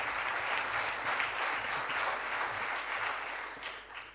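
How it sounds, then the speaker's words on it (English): Audience applause at a panel debate on power in organisations, a dense steady wash of clapping from a full room that holds for about four seconds and thins slightly at the end. "Round of applause, please."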